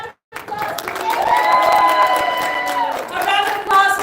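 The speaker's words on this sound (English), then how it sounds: "A round of applause." Loud, close audience applause mixed with cheering and whoops at a tea dueling contest, rising after a brief silence and holding steady for several seconds before dipping.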